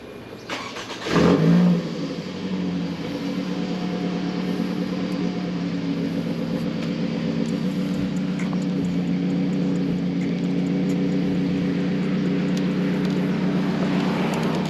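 A Solar FF Lite 2024 solar vehicle riding through traffic, a steady broad rolling and motor hum with one louder passing burst near the start, continuous and close throughout.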